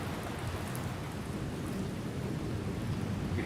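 Heavy steady rain hisses outdoors during a big storm, with low rumbling thunder blended into the dense downpour; no talk.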